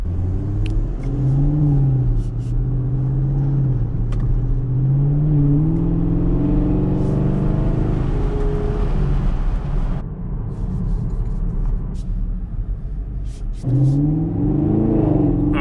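A Camaro SS engine revs toward 4,000 RPM and accelerates with a loud, rising growl, then eases off and surges again. It sounds close and continuous, with no speech.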